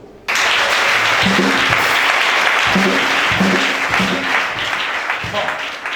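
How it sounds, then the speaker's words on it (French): A church congregation at a Sunday service bursts into loud, continuous applause that starts abruptly and holds steady for several seconds, with faint voices mixed underneath. "Acclamons."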